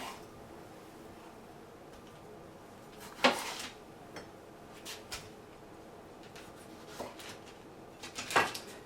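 A knife cuts the ends off Roma tomatoes on a granite countertop, giving a handful of sharp, close clicks and taps spaced a second or two apart over quiet room tone.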